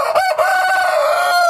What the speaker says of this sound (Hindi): ये मुर्गा मुर्गी घर के ही हैं, ये दोनों फॉर सेल हैं।